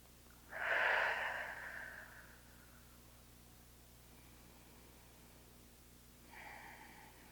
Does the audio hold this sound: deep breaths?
yes